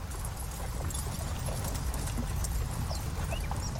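Horse hooves clip-clopping as a sound effect, a steady run of close hoof beats over a low rumble that continues throughout.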